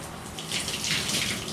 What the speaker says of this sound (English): You can see all that wonderful, lovely water